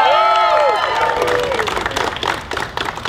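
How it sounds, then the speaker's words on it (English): An audience at a press conference applauds the Teamsters, a dense burst of clapping and some cheering that swells at first and then thins out over a few seconds, with voices mixed in at the start. "Let's give the Teamsters a big round of applause."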